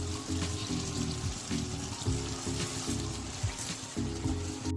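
Soaked, drained rice is tipped into a pot of cooking chicken for chicken tehari, making a soft granular pour over a quiet sizzle, with no talking.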